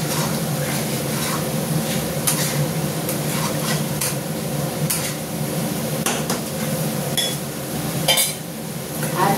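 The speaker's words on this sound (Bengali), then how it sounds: "দিয়ে মশলাটাকে আমি কষাতে থাকবো।" Spice masala being stirred and fried in a pan over a gas flame, a utensil scraping and clinking against the metal in irregular strokes over a steady close sizzle, with no talking.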